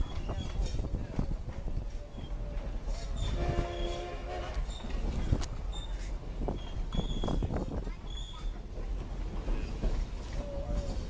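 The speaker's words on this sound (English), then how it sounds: "you'll see the train turning" The Durango and Silverton narrow-gauge railroad train running during a railfest, a steady low rumble and clatter with a brief squeal and clinks, heard from nearby, with people talking faintly in the background.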